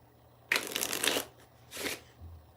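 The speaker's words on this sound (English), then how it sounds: "So I've shuffled these cards like 7 times" Playing cards shuffled in two quick riffle bursts, the first longer and louder, the second shorter, close up with no talking.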